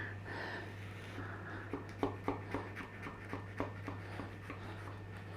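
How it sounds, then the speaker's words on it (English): A knife cutting through a mince beef and potato pie, a quiet series of soft crunches and scrapes in an uneven rhythm against a low steady hum. "all we got to do now is cut a slice"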